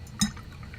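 A paintbrush swished in a cup of water while painting a Warhammer Age of Sigmar miniature, giving one short close splash and trickle amid quiet room noise.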